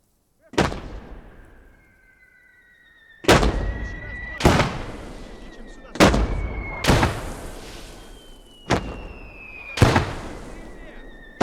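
50mm mortar rounds fired and landing in the World War II strategy game Gates of Hell, set in a Finnish conquest campaign: about seven sharp, booming blasts at uneven intervals, each decaying into a rumbling tail, with faint whistling tones between them.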